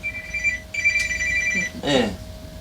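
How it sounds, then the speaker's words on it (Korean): A phone rings during a church sermon, with a steady electronic ringtone melody repeating in clear tones before a brief louder chirp near the end, fairly loud and close with no talk over it. "주님께서 전화 오셨나봐요."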